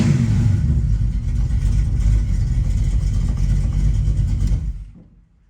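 A hot rod V8 engine rumbles loudly and steadily at close range with a rough, uneven lope, then cuts off abruptly near the end.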